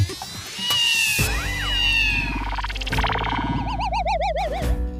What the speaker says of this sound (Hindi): दरवाजा खुला क्या रखा, बिल्ली आ गई अंदर।